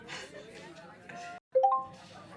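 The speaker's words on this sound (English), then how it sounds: "This is your halfway warning, guys." A short electronic halfway-warning chime sounds at a speed-dating event, a couple of bright clear tones ringing out after a brief silence, with people talking before and after.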